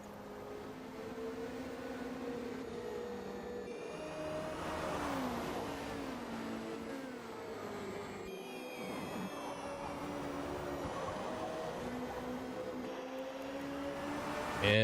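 Several hypercars circulate on the banked section of a track during a three-hour endurance race, engine notes rising and sweeping past in layered, continuous drones with pitch shifts as cars go by, steady and fairly loud throughout.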